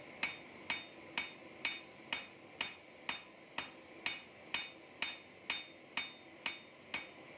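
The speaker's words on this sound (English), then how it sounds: "Watch how the material turns into a banana as I hammer in the bevel." Steady hammer blows on hot railroad spring steel forging a sword bevel, about fifteen sharp ringing strikes in an even rhythm, close and loud with no talking.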